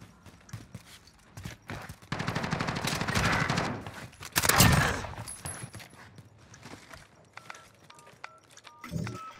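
SMG gunfire in Modern Warfare 2019, rapid bursts of automatic shots close by, with quieter footsteps and scattered impacts between bursts.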